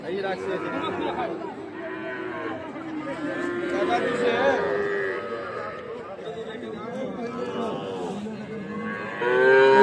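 Cattle moo repeatedly at a busy livestock market selling young calves in Sylhet, with low drawn-out calls mixing with the nearby chatter of a crowd and someone speaking close by.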